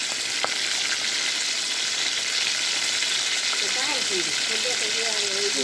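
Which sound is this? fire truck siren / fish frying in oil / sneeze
fish frying in oil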